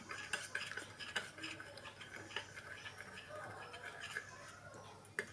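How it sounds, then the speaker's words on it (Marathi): A batter is stirred steadily in a bowl to keep it free of lumps, giving soft repeated scraping and light clinks of utensil against the vessel, close by and fairly quiet under occasional speech. "हे एक व्यवस्थित मिक्स करून घेणार आहे मी गुटले पडा ह्याला गुटळ्या व्हायला द्याय द्यायचं नाही अजिबात"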